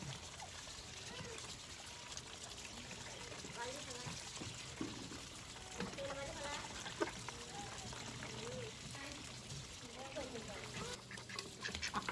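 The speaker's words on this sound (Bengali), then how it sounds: "হাঁসে কি সুন্দর আধার খায়" Ducks quack repeatedly while eating feed amid splashing and dabbling water, with people talking in the background throughout.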